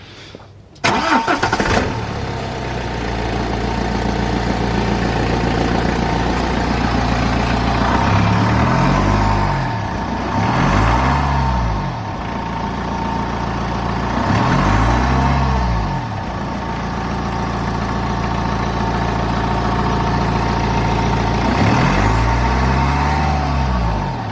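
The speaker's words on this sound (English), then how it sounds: "Now let's fire the engine up, make sure we don't have any exhaust leaks." A BMW E60 5 Series car engine cranks and catches, then settles into a steady idle with periodic swells in revving, continuing alone for a long stretch.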